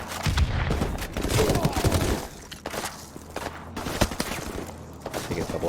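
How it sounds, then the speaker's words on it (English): Gunfire and grenade launches in Call of Duty Modern Warfare Remastered, aimed at enemies along a fence beside a burning building: a dense battle din of shots and thumps, heavy at first, then scattered bursts and booms. "starts firing at a line of enemies along a fence in front of the burning building to the right"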